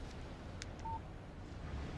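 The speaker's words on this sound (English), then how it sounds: "Text message from Barry." A phone text message alert in the Alan Wake video game, a single short electronic tone over a low background hum, with no voices.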